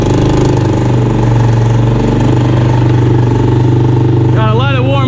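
A homemade vehicle riding on stretch-wrap tires has its engine running loud and close with a fast, throbbing chug, then revs up with a rising whine at the end.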